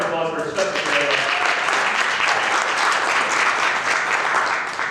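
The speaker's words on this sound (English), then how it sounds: "maybe a round of applause" An audience at a mentoring recruitment presentation claps in a sustained round of applause, dense and steady, with a voice trailing off briefly at the start.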